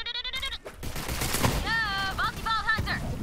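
Gunfire at a pizza in the video game Borderlands 3: a quick flurry of rapid shots in the middle, mixed with bleating, warbling game cries before and after, all moderately loud and close.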